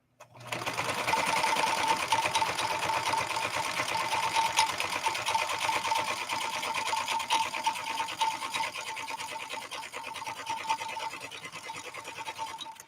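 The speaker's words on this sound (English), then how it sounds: "And we'll lay down that same crescent stitch on here." A 1970s Kenmore 158.13520 sewing machine runs steadily through a crescent stitch, a fast, even mechanical whir and needle patter that holds for about twelve seconds before stopping, with no talk over it.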